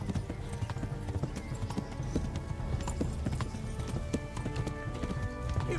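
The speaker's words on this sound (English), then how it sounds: "This horse should be going faster." A horse gallops in the medieval video game Kingdom Come: Deliverance, with rapid rhythmic clip-clop hoofbeats running steadily throughout, fairly close, over a faint game ambience.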